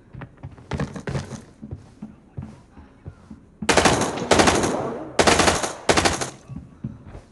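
Bursts of loud automatic gunfire from a firearm in the shooter game Arena Breakout, with a few sparse shots early on followed by four heavy, rapid bursts close up and separated by brief pauses.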